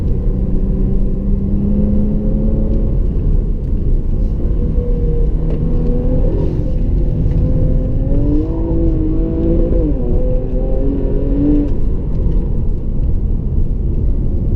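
A 2016 Jaguar XE S with a 250 kW supercharged V6 accelerates hard, its engine note climbing steadily through the gears with rising and falling harmonics, loud and close from inside the cabin, with no talking.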